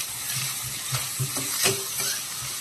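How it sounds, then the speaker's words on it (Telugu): Onions and green chillies sizzle in hot oil in a pan, a steady frying hiss broken by a few scraping stirs of a spoon, close and clear. "ఆనియన్స్ వేసుకుందాం. పచ్చిమిర్చి కూడా వేసుకుందామండి. కలుపుకుందామండి."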